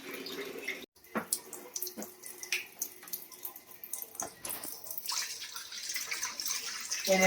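Kitchen tap water splashing into a sink as vegetables are washed before cooking a fish curry, with irregular close clatters and water sounds growing into a steadier running stream.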